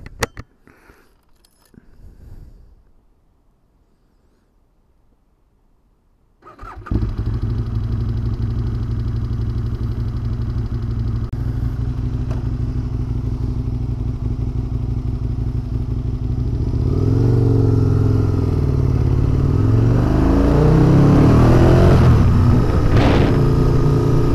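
Near silence breaks as a Honda VTR1000F Firestorm V-twin motorcycle fires up with a thud, then settles into a loud, steady idle that swells as the revs rise, heard up close with no talk.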